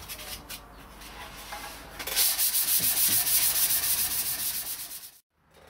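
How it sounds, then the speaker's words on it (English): Sandpaper rubs back and forth over a painted guitar body in quick, rhythmic, raspy strokes that grow louder after a couple of seconds, then stop briefly near the end. "So all I'm going to do is just go over this until it's nice and smooth."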